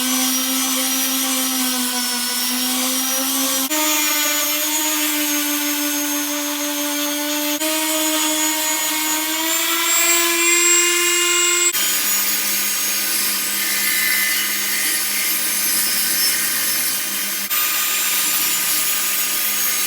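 Table saw trimming the ends of a glued wooden board for a hi-fi stand, a steady loud motor whine running continuously with pitch shifts as the blade cuts through the wood, no talking.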